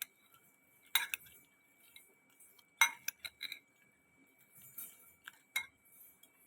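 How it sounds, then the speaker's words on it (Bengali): A metal spoon clinks against a bowl while mixing mirchi bhaji chaat with chutney and lemon juice, giving sparse, sharp taps and scrapes with quiet gaps between them. "আমি মির্চি ভাজির এই চাটটা আর কি মিক্স করে নিচ্ছি"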